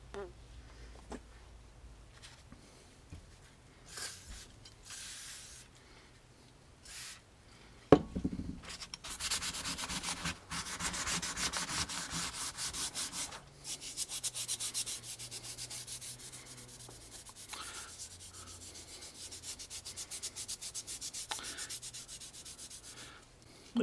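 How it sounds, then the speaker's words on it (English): A Scotch-Brite pad scrubs rust off a steel M1 Garand bayonet blade, with a few faint handling sounds first and then steady, close rasping strokes that continue to the end. "So just a pass with the Scotch-Brite"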